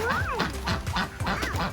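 Pet ducks quacking repeatedly nearby, a run of loud, nasal calls in quick bursts with a few geese-like honks mixed in, no talk over them.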